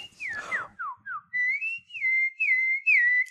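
A man whistles a bird-like tweet, imitating birdsong with a quick run of sliding chirps followed by several sustained, clear whistled notes, close and alone with no background sound.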